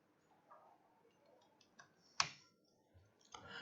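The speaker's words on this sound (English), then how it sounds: "So type this command and press enter." Scattered keystrokes on a computer keyboard as a command is typed: sparse, quiet clicks with one sharp louder key press like Enter midway, close and with no talk.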